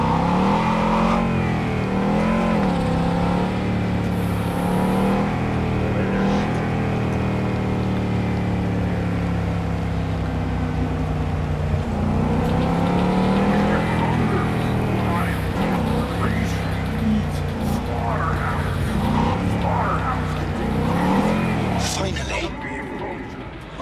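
Car driving in Cyberpunk 2077, a continuous loud engine hum with shifting revs and pitch sweeps over nearly half a minute, while voices talk over it.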